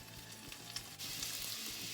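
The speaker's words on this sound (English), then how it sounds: "I'm going to add 3 tablespoons of butter." Three tablespoons of butter sizzle in a frying pan, a steady crackling hiss that swells louder about halfway through, with no talking.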